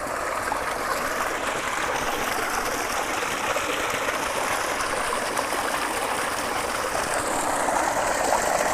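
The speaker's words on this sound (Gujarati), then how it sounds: "આ મોટરનું પાણી આવે છે અને આ ઉર્જા જળ જે આપણે બનાવ્યું છે કુંડીની અંદર" Water from a motor pump runs through a pipe into a two-and-a-half bigha field, a loud, continuous rushing flow that holds steady the whole time with no talking.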